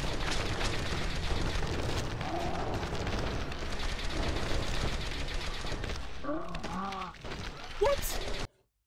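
Heavy gunfire aimed at the player in a Fallout 3 and New Vegas mod roars in a dense barrage for several seconds, then breaks off. A voice cries out briefly near the end.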